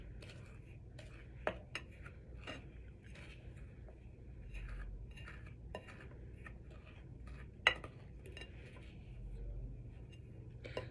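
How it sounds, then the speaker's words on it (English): Homemade slime being stirred and folded in a bowl, soft irregular scraping and tapping of a utensil against the container with faint squelchy movements, quiet and close with a few sharper clinks. "So how I'm stirring it is I'm kind of folding it into each other so that it kind of gets compacted"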